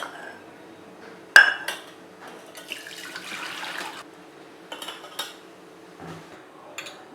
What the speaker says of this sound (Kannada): ಈಗ ಪನ್ನೀರಲ್ಲಿರೋ ನೀರನ್ನೆಲ್ಲ ಸೋಸ್ಕೊಳ್ಳೋಣ